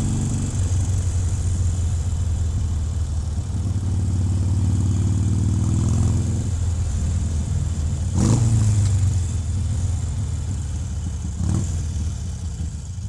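Harley-Davidson Iron 883 motorcycle being ridden, its engine a steady mid-range drone that swells as it accelerates, with a couple of brief louder bursts, loud and close throughout.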